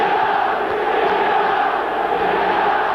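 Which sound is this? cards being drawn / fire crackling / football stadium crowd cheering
football stadium crowd cheering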